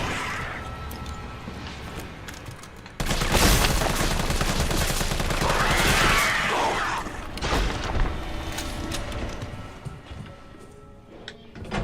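A flashbang grenade goes off in Resident Evil 3, with a sudden loud broadband blast at about three seconds. Sustained rumbling, bursts and clattering game action follow it.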